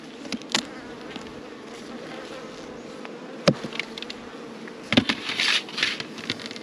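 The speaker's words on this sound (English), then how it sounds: "Lots and lots of bees up here" Honeybees drone in the open top box of a hive, a steady buzz throughout broken by a few sharp knocks and clatters of handling, no talk.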